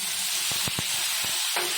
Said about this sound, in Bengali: বাঁধাকপিটা আমার ভাজা ভাজা হয়ে গেছে, এবার কিছু পরিমাণ জল দিয়ে দেবো